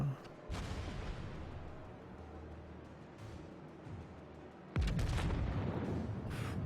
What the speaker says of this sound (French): Le bruit du canon.